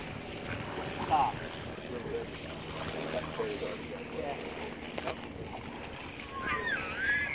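A boat motor rumbles steadily in the distance over wind and lapping water in Florida, with people and toddlers talking nearby.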